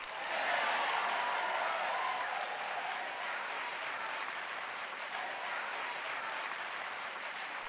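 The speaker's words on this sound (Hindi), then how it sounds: "तालियां बजाने में कोई कंजूसी ना करें।" A congregation at a Joyce Meyer teaching session claps loudly and continuously for several seconds, a thick, even wash of applause that eases only slightly without fading out, with no talking over it.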